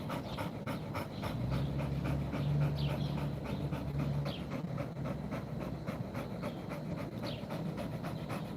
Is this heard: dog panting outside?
yes